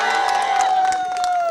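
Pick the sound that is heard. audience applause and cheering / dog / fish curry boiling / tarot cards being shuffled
audience applause and cheering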